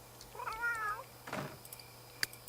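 A single drawn-out cat meow in The Sims 3, clear and fairly close, followed by a few soft clicks and a faint background hum.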